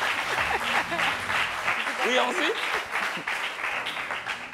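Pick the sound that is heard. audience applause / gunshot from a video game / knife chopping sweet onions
audience applause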